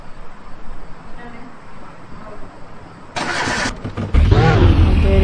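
A car engine cranks and catches, then roars up loud and close before settling into a steady run, with some faint background noise beforehand.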